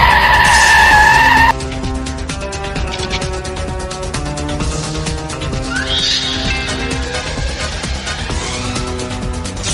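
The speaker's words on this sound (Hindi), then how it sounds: "चलो दया, गाड़ी निकालो, तालबेड़िया जाना है।" A car peels away with squealing, skidding tires, then its engine carries on over continuous background music, loud and close.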